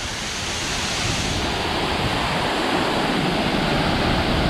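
A close, roaring waterfall in Thailand fills the air with dense, constant rushing water noise, loud and unbroken throughout.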